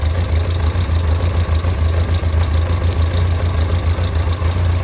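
A cold motorcycle engine idles with poor carburetor synchronization, a loud steady low rumble with an uneven, slightly knocking pulse running unbroken and close by, with no voices.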